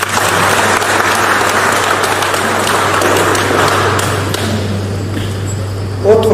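An audience at a tribute gathering for a professor in Bujumbura applauds at length, a steady, moderately loud patter of many hands over a constant low hum, thinning toward the end.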